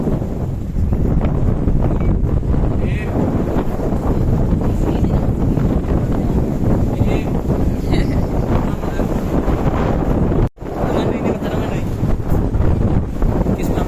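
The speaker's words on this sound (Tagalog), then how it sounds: "So mahangin." Strong, steady wind roars across the microphone in the middle of the sea, a constant low buffeting rush with faint water and boat noise underneath, briefly cutting out once.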